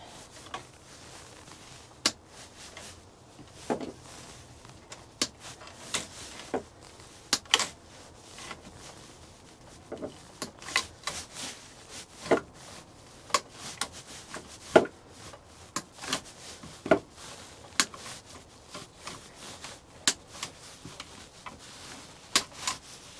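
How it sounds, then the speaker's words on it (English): Pliers cut through wire out in a garden plot in winter, giving a series of sharp, irregular snips and clicks at close range over a quiet background, with no speech. "obviously I've got to cut it and carry on that side, which is hence the pliers"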